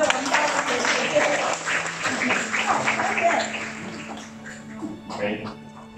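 An audience at a company's thirtieth-anniversary event applauds, dense clapping that fades toward the end, with voices mixed in.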